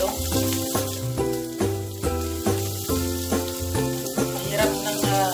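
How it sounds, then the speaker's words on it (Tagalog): Ginger fries in a pan while adobong pusit is being cooked, with a continuous bright sizzle and hiss beneath a steady, rhythmic tonal pattern. "Lutuin natin ang ginger na sandali."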